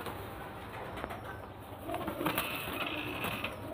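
Soft cooing from caged pigeons kept at a home loft, low and murmuring against a steady background hiss, with a few brief fluttery rustles midway and no talking.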